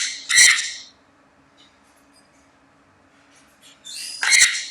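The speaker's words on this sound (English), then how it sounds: "the bird is going crazy" A pet bird lets out two sharp, loud squawks, one near the start and one near the end, separated by a quiet stretch with faint background hum.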